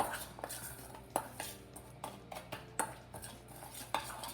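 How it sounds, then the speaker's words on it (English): Rib rub spices and salt are mixed together in a bowl for fall-off-the-bone ribs, a utensil scraping and tapping against the bowl in quick, uneven strokes with sharper clinks every second or so, close and without talk. "let's mix all the rubs together here in a bowl"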